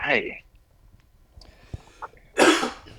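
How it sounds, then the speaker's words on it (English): A person coughs during a casual podcast conversation: a short burst near the start, then a louder, breathy cough toward the end, close to the microphone with quiet gaps between. "let me take this time to apologize for my cough"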